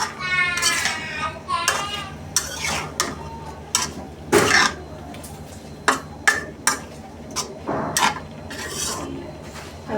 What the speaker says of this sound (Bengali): এবার আমি নেড়ে দেবো, তাহলে মশলাগুলো পটলের মধ্যে লাগে ভালো করে